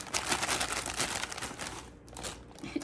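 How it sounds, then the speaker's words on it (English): Plastic bags and orange paper shred crinkle and rustle close up in a continuous busy scrunching, easing briefly before picking up again. "But we've got some plastic bags, and then I'm gonna put the orange shred on top"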